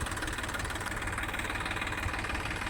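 A tractor engine idles close by, a steady, unbroken rumbling chug with no voices.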